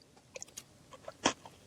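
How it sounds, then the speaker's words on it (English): Someone chews food with honey right up against the microphone, producing soft, irregular crunches and clicks with one louder bite near the end, and no one speaks. "Chewing into the mic again."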